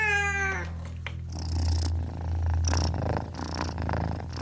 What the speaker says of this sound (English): as Scarlet rubs up against her legs, purring loudly with affection.